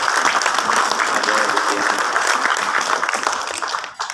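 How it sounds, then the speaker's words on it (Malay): Audience applause at a Malaysian launch ceremony marking an organisation's 25th anniversary: dense, sustained clapping from a crowd, loud and steady throughout, with a voice speaking briefly over it. "Mari kita berikan tepukan dulu"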